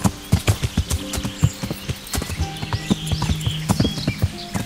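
Steady clip-clop of horse hooves at a trotting pace in the video game Kingdom Come: Deliverance, close and clear, with faint background ambience.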